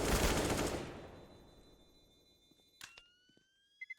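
Gunfire in Counter-Strike, a loud burst of rapid shots at the start that fades away, followed by a few faint, sharp clicks and metallic pings near the end.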